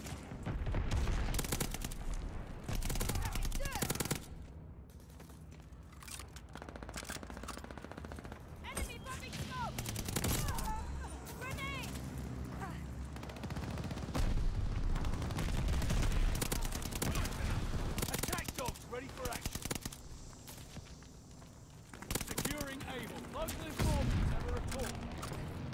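Turret machine-gun fire in an online shooter, long rapid bursts rattling repeatedly over about twenty-five seconds, mixed with other gunshots and a player talking over the action.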